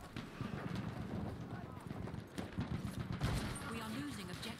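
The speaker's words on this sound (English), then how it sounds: "Oh, a horse." Hooves of a horse galloping in the World War I shooter game Battlefield 1, a quick clip-clop rhythm mixed into loud battle noise with gunfire bursts while a player talks over it.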